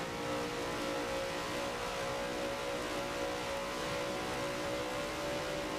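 A Jaguar and a McLaren race car in a sim racing game scream along the straight at Spa-Francorchamps, giving a steady, dense, high engine drone at constant volume with no gaps and no voices.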